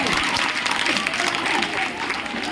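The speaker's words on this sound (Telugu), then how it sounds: "ఒకసారి అందరు నచ్చినట్లయితే గట్టిగా చప్పట్లు కూడా వినిపించాలి" Students and parents at a school gathering clap loudly together, a dense, continuous burst of applause close by that holds steady throughout with crowd murmur mixed in.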